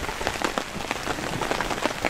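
Heavy rain pours down at Kiwada campsite during a windy storm, a steady, dense patter of drops drumming on a nearby surface with no voices.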